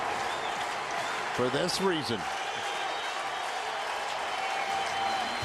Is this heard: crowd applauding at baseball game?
yes